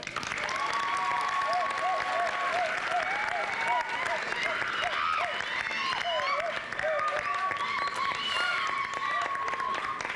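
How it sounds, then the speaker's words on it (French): Audience applause on a Cameroonian television comedy show, a steady dense wash of clapping that runs the whole time, with a voice and whoops rising above it at moments. "Applaudissez-moi."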